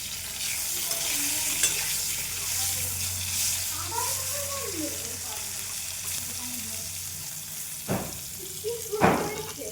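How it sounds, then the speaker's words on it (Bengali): Salted, turmeric-coated pointed gourd (potol) fries in oil in a kadai with a continuous close sizzle. A few sharp utensil clanks come near the end, and faint voices are in the background. "এবার পটলটা ভেজে নেব"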